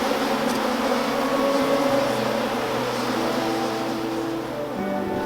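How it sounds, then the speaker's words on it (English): Dense, continuous buzzing of thousands of bees inside an emptied hive box, loud and close with a steady drone throughout. "There's still just thousands of bees in this hive"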